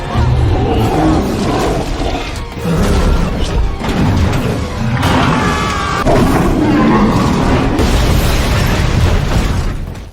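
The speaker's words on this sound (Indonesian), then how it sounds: "setelah helikopter itu hancur dan meledak" Loud, dense explosive roaring from a helicopter exploding in a film, with repeated bursts and crashing debris, sustained for several seconds like a big cinematic blast.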